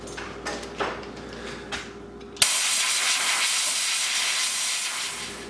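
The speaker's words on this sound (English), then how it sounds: "So I've been blowing it out with my air compressor." An air compressor nozzle lets out a sudden loud, steady hiss of air, blowing sanding dust from the pores of a wooden bowl after faint workshop handling sounds.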